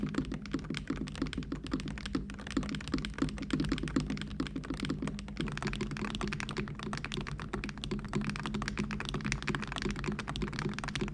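Typing on a Wooting 80HE keyboard with a heavy zinc case gives a dense, steady patter of quick key clacks, close and continuous for the whole stretch over a low background hum.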